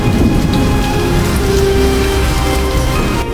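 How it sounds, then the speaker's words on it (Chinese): Heavy rainy-season rain pours down in a dense, loud, unbroken roar, with low rumbling beneath it that suggests distant thunder. "雨季正式来临，雨水瞬间滋润了大地"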